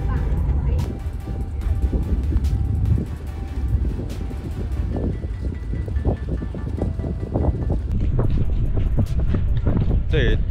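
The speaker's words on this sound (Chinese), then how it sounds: "我们今天坐的是奇峰快艇" A speedboat runs across the sea off Penghu, Taiwan, with a steady roar of engine, wind buffeting and splashing water throughout; people talk over the noise.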